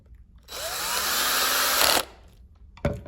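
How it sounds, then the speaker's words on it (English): A power driver spins a screw back into a plastic armrest pad in a single buzzing burst of about one and a half seconds, rising in pitch, followed by a short click. "all I need to do is to reverse putting the screws back in again"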